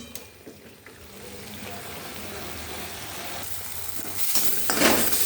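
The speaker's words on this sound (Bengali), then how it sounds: "ভালো করে মশলাটা এবার কষিয়ে নিই।" Spice paste with turmeric for a Bengali bata fish curry fries and gets stirred in a pan, a steady moderate sizzle with spatula scrapes that grows louder and brighter near the end.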